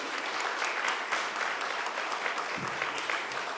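Audience applause at a political and technical plenary marking a commemorative day in Chile, steady dense clapping throughout, moderately loud and fairly close, with no voices over it.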